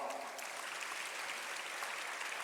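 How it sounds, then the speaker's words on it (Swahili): A church gathering applauds in a steady, dense patter of many hands, heard a little distant and fairly soft, with a faint voice under it. "Makofi kwao."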